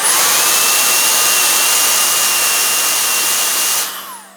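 A Milwaukee M18 brushless precision blower runs steadily at its third speed setting, a loud, close, high-pitched whooshing whine that holds constant and then winds down near the end.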